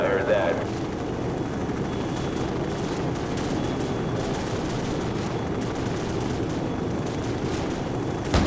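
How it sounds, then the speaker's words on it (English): Helicopter rotors thrum steadily in the Call of Duty 4: Modern Warfare mission Death from Above, a constant dense drone with intermittent bursts of gunfire crackling over it. "We're moving towards the helicopters now."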